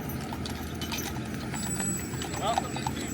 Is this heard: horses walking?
yes